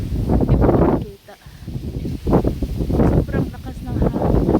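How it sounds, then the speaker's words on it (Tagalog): Strong wind roars in heavy, rumbling gusts against the microphone outdoors, loud and nearly continuous with one brief lull, on the way to work. "Grabe ang lakas ng hangin guys, sobra."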